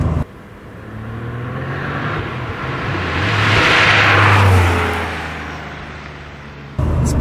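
A 1996 Porsche 993 Turbo accelerates hard, its engine rising to a loud roaring surge heard from inside the car before easing back, with road and wind noise throughout.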